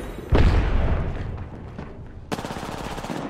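Loud, close gunfire from the video game Apex Legends, a heavy burst followed by a second rapid volley, with no talk over the shots.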